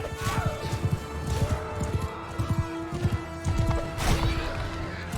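Hooves pound in a rapid galloping rhythm with heavy thuds and a crashing impact in a Mount and Blade Bannerlord battle, mixed with game clamour and faint voices.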